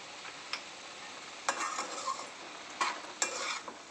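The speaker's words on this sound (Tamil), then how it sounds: "போட்டு நல்லா கிளறி விடுங்க" Food, dried anchovy curry base with turmeric, being stirred in a hot pan with a quiet steady sizzle, broken by several sharp scrapes and clinks of the spoon against the pan, close and without talk.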